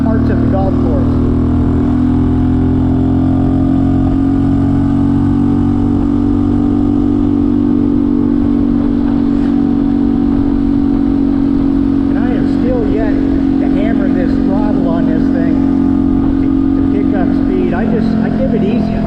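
A Honda CT125 motorcycle is ridden along a road at a steady, easy throttle, its engine holding a constant droning hum throughout, with someone talking over the engine.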